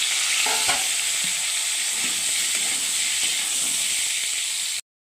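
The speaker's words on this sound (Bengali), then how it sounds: "তেল দেওয়ার পরে কিন্তু আমি আলুগুলো গোটা গোটাভাবে ভেজে নেব" Whole potatoes fry in hot oil, giving a steady, close, bright sizzle with a few faint stirring knocks, with no talk, until it cuts off abruptly near the end.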